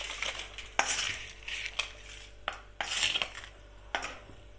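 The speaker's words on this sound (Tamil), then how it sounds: "எண்ணெய் விடாமல் இதை வந்து ட்ரையாக ரோஸ்ட் பண்ணி எடுத்துக்கலாம்" Dried chillies dry-roasted without oil in a pan for a gooseberry pickle, clinking and scraping intermittently as they are stirred, with sharp metallic ticks between softer rattling passes, close and fairly quiet.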